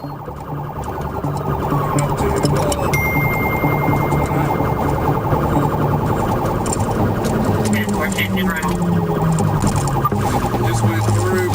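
A police car siren wails continuously during a high-speed pursuit, loud and steady over roaring engine and road noise, with radio chatter mixed in.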